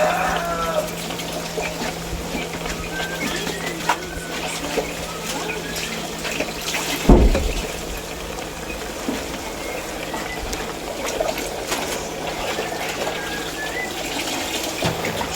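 Water poured into a pot for cooking squid adobo, a steady low gushing stream that runs through with a brief louder splash midway, fairly close.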